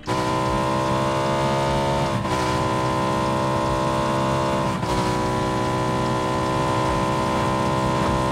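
A car driving in the battle royale game PUBG, its steady engine drone running loud and continuous, with a brief dip in pitch around a gear change or two.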